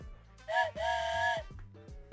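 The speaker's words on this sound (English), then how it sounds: "I got a train whistle just for this." A toy train whistle blown twice nearby, a short hooting note followed by a longer steady chord-like tone, with brief breathy sounds around them.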